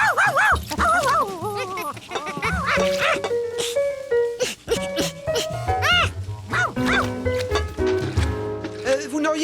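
A cartoon dog barks and yips in an overexcited way. The barks are quick and irregular and sit in a busy animated soundtrack with music, whimpers and crashing effects.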